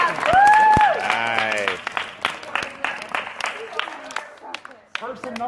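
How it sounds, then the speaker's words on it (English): A room full of people breaks into a round of applause to recognize a student, loud clapping at first, then thinning into scattered claps, with a brief spoken remark near the start. "let's give him a round of applause"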